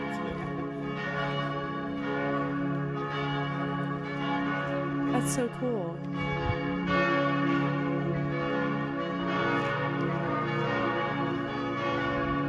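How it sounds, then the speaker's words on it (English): Church bells ring steadily throughout with rich, sustained tolling overtones, while a voice briefly speaks partway through. "I don't know if you guys can hear this. The bells?"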